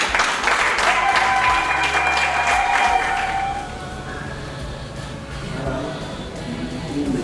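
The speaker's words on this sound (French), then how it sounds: "on applaudit pour nous." Applause from guests at a wedding ceremony after the officiant asks for objections, a loud steady patter of clapping that thins and fades toward the end, with a brief low hum partway through.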